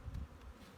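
Honey bees buzz faintly at a hive during a spring assessment and cleaning, a brief soft hum with no voices.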